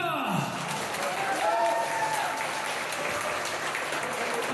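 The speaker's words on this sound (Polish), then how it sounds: "Wielkie brawa!" Wedding guests applaud after the couple's first dance, a dense, loud burst of clapping from a crowd filling the room, with faint voices and a brief cheer mixed in.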